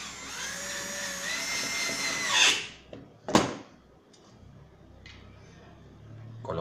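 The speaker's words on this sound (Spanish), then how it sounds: "Colocamos nuestro tornillo de 6 por 1 y 1 cuarto de pulgada y ya nos va a quedar listo este ensamblado." A power drill drives a screw into melamine panels, a high whining spin running for over two seconds before cutting off, followed by a sharp knock and scattered small clicks of handling nearby.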